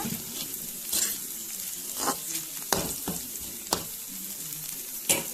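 Okra pieces stir-fried in a pan with chili powder: a steady close sizzle punctuated by about six sharp scrapes and taps of a spoon against the pan as the pieces are tossed.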